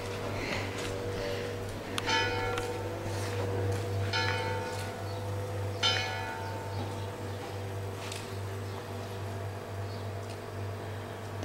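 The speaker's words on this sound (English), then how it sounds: "The bells mark the time." Church bells on the Camino Francés between Puente la Reina and Estella ring out in a few spaced strikes marking the time, each leaving a shimmering decay, heard at a distance over a steady low hum.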